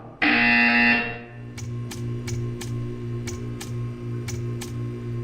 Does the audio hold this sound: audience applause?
no